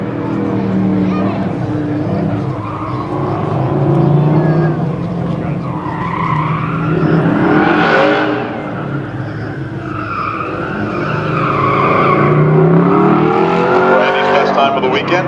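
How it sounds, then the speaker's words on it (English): A 1972 Chevrolet C10 pickup with an LS1 V8 launches down a drag strip at a California car show, its loud engine roar and tire noise rising and falling over about fifteen seconds while an announcer talks over it. "Randy off and running in the 72 Chevrolet"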